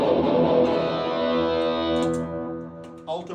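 Electric guitar played through an MXR Rockman X100 distortion, a sustained, saturated chord ringing out loud and steady, then fading slightly before a short new attack near the end.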